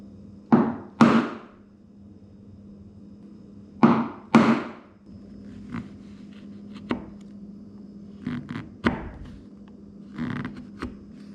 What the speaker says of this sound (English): it doesn't take very long with just a chisel